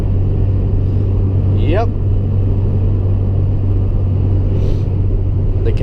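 A car driving through blowing snow on a hilly road near Watertown, with a steady low engine and road rumble inside the cabin and brief talk from occupants.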